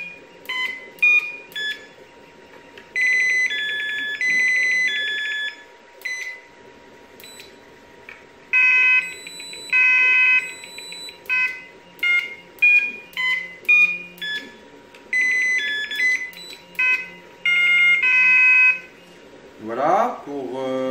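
Fishing bite alarm detectors cycle through eight different tones, sounding repeated electronic beeps and warbling tone bursts in separate groups. A brief low sweep follows at the end.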